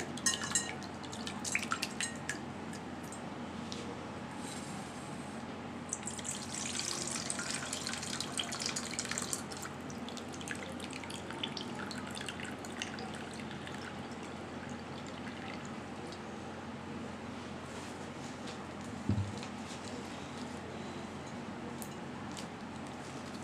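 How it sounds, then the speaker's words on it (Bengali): Soaked flattened rice (chira) being rinsed in water by hand: steady close splashing, sloshing and trickling run throughout, with occasional drips and small pours and no voices. "তিনবার করে যতক্ষণ সাদা পানি আসবে না ততক্ষণ ভালো করে ধুয়ে নিব"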